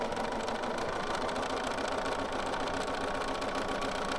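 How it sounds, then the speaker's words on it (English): Sewing machine running steadily and continuously while free motion stitching a quilt at a slower speed, a constant mechanical hum with fine rapid needle rhythm and no talk. "I'm going to sew slower."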